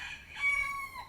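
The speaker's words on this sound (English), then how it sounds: "love the roosters here too." Roosters crow outdoors in Hawaii, one long drawn-out cock-a-doodle-doo rising and holding clearly for about a second at moderate distance, with no talk over it.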